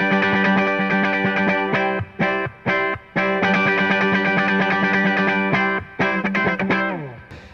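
Fairly clean, slightly harsh electric guitar playing the choppy intro riff of a song, loud repeated chords broken by sharp stops, ending in a downward slide.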